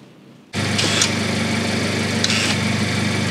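A Mazda MX5 ND with a custom-built exhaust and remote-controlled valves suddenly starts droning loudly and steadily after a quiet moment, a close, continuous idle rumble.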